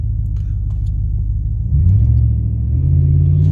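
A 2016 Ram 1500 with a tuned Hemi V8 rumbles steadily while driving, its low engine drone swelling louder about halfway through as it accelerates, then holding a heavier, deeper growl near the microphone.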